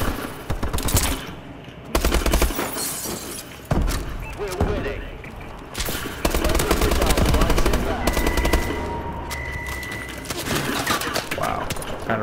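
Rapid automatic gunfire bursts from the video game Call of Duty: Advanced Warfare, loud and near with repeated volleys, under a player's spoken commentary.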